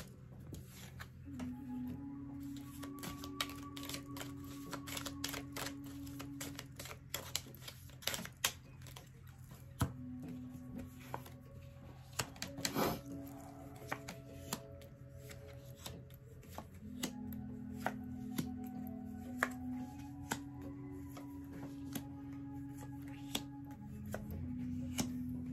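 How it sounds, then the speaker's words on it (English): Tarot cards being shuffled in a reading setting, giving a fast run of soft flicks and riffles with scattered sharper slaps as cards spill out, close up under quiet background tones, with no talk. "Your cards are just flying out."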